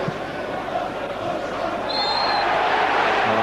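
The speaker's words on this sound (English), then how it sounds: "even above the crowd noise" Football stadium crowd at a Premier League match between Liverpool and Manchester United, a dense continuous roar of many voices, steady and loud, with a brief whistle-like tone rising above it.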